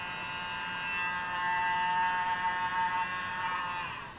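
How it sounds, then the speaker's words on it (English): A tiny electric blower blowing acrylic pour paint hums with a thin, steady motor whine, close and fairly quiet, swelling slightly and fading at the end. "I'm going to use my world's smallest blower, and I'm just going to blow the paint over it."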